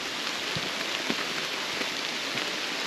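Steady rain pattering on leaves and ground in a dark, overcast forest near a trailhead, a dense continuous hiss with occasional louder drips close by.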